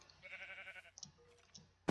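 A sheep bleats in Minecraft, a short wavering game bleat followed by a second brief call, with soft clicking between and a sharp noise burst at the end.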